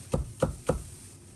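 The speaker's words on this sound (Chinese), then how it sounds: "1小块生姜切成薄片，" A knife slices a small piece of fresh ginger into thin slices on a cutting board, making three evenly spaced, crisp chops close up, followed by a brief quiet.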